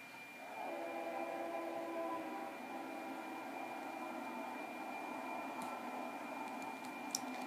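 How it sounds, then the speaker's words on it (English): A passing train, the second of two trains heading toward a station, rumbles steadily at moderate loudness throughout, with a layered low drone, a thin high whine and faint ticks and clicks near the end; no one speaks. "Oh, we still have another train coming."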